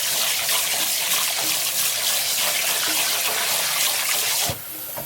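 Tap water runs steadily as rice is rinsed under a faucet and the starch drains away, a loud continuous gush that stops abruptly near the end.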